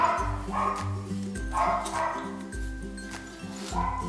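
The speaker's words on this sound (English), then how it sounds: "If you hear barking" A few scattered dog barks, fairly faint, over steady background music with a low repeating melody.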